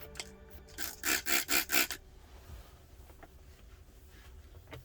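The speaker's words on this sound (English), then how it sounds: "I have here a solution to clean the screen, which I just apply a little bit on a microfiber cloth." Microfiber cloth dampened with screen-cleaning solution rubbed across a Tesla Model 3 or Model Y touchscreen, four quick close wiping strokes in a row, then faint handling noise.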